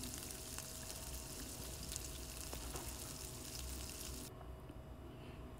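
Cooked beef for a bhuna stir-fried in a pan, a steady low sizzle and hiss with faint scraping that continues evenly, close and quiet, without speech.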